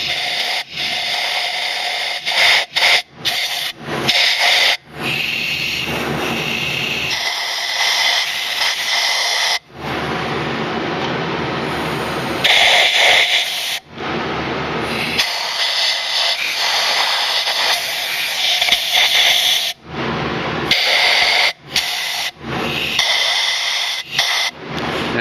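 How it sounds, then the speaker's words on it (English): Compressed air hisses and blows debris out of the spark plug wells on a Kawasaki ZZR600 motorcycle, in long loud bursts broken by short pauses, with no talking. "I'm going to blow air down in there."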